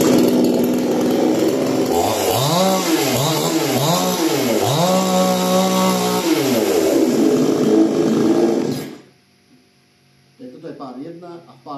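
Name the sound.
Procraft GS-52P chainsaw running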